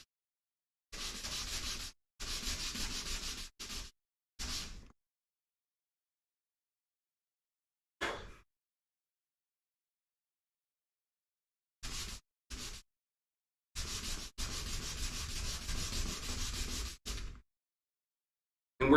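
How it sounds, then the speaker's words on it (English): Hand sanding on a workbench with 220 grit sandpaper comes as bursts of close, brisk scratchy rubbing, each lasting one to three seconds, separated by silent pauses, with a longer continuous pass near the end. "On to sanding. This is 220 grit, by the way"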